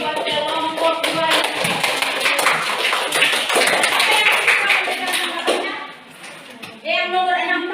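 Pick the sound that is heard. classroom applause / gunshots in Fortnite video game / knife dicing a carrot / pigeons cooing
classroom applause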